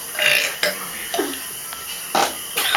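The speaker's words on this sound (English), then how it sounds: "Whoever's ready to burp, let me know." Burps during a burping contest in Puerto Rico: several short belches in a row, one deeper and longer, with brief gaps between them, close and fairly loud.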